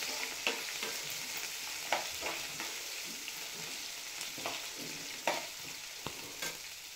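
Green chilies, garlic and ginger fry in a pan, a steady soft sizzle with scattered light clicks and scrapes from stirring, quiet and close without any talk.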